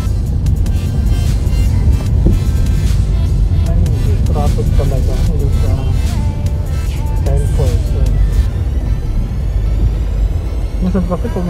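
Traffic on a city road in Manila heard from inside a moving car, a constant loud rumble of engines and road noise, with a person talking over it throughout.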